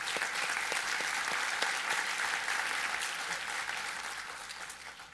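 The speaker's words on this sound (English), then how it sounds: "So please, a round of applause for them." An audience at a corporate talk about Hurricane Harvey claps steadily for several seconds, a dense wash of hand claps that gradually thins and softens toward the end.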